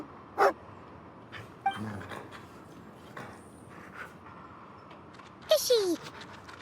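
A guard dog in Genshin Impact lets out a few sharp barks and a high whimpering yip, scattered and clear over soft ambient background.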